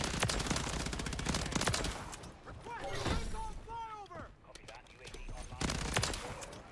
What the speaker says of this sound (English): The suppressor come in handy, man, on this gun.